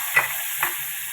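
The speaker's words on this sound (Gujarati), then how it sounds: "પછી થોડુંક તળાવા દેવું ડુંગળી આપણે." Onions frying in a hot tempering with cloves and green chillies for Gujarati bakalu khichdi, a soft steady sizzle with two brief stirring scrapes, close up and no talk.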